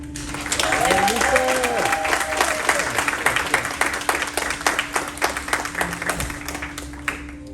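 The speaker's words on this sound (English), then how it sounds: "let's give our honorees a big round of applause" Audience at a university nursing white coat ceremony applauding its honorees, a loud burst of many hands clapping that thins gradually into scattered claps, with voices and a few cheers mixed in.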